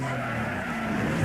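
Tires skid as a car brakes suddenly in the Need for Speed Most Wanted racing game. A sustained screech rides over a steady engine drone without a break, and no one talks.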